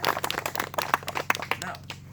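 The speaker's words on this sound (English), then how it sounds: "Another round of applause for our beautiful." Small group of wedding guests clapping, sparse irregular claps close by, brief and uneven with a faint low hum underneath.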